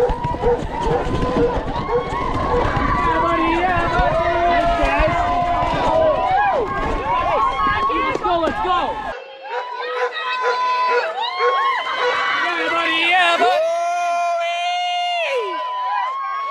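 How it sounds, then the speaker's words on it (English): Crowd cheering at a bicycle race, with lots of overlapping shouting and whooping voices close by, loud and continuous and sounding busy throughout. "Oh, good cheering squad there."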